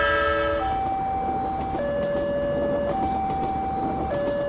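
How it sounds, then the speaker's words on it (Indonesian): At a railway level crossing, an electronic warning signal rings in alternating two-tone pulses over the steady loud rumble of a passing train. "Palang perlintasan kereta api yang turun dan sinyal berbunyi adalah peringatan bahwa kereta sedang melintas."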